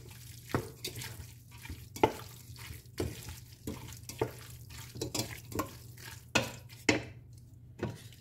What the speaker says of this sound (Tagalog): Saka natin siya haluin.